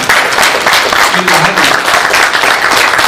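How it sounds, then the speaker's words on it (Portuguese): A church congregation applauds together, a dense crackle of many hands clapping that holds steady throughout, with a brief voice rising underneath partway through. "Aplauda o Senhor."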